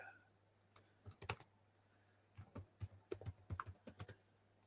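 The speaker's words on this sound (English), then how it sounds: "So I'm going to type it into the chat" Typing on a computer keyboard, close and quiet, in two short bursts of rapid uneven key clicks separated by a pause, with no talk.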